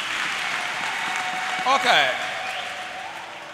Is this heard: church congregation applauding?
yes